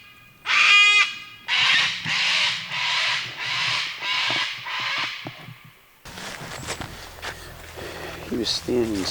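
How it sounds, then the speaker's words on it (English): An agitated bird, likely a crow, gives a series of about six loud harsh caws in steady rhythm while hunting for a fallow deer in Australia; afterward a person talks over rustling footsteps. "There's some kind of bird that's not happy."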